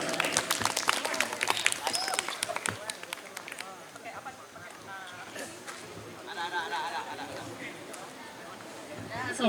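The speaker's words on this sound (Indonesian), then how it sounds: "Beri tepuk tangan dulu dong." Audience applause at a university talk show festival session, a burst of clapping that fades after a few seconds, followed by chatter and crowd noise in the room.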